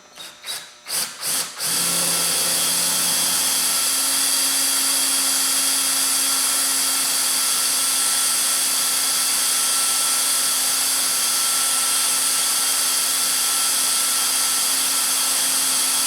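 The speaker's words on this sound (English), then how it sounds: "now that we've got the small holes drilled" Power drill boring small holes in a metal bracket while a 52-inch LED light bar is fitted to a Dually truck; a few short bursts, then a long steady high whine running loud and close, with no talk.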